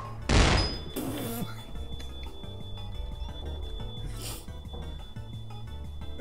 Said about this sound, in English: I got a homemade flashbang.